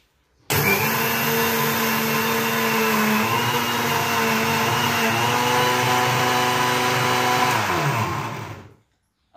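A kitchen mixer grinder runs steadily for about eight seconds, grinding soaked rice with water. It starts abruptly and whines loud and close with a constant motor tone, then spins down as it is switched off.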